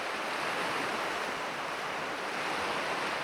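Ocean waves roaring in a storm at sea, heard as a continuous dense rushing wash with no breaks, loud and even throughout and with no voices.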